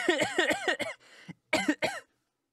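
A man's hacking cough comes in several harsh, voiced bursts with short pauses, close and fairly loud, performed by a narrator's voice imitating the coughing fit.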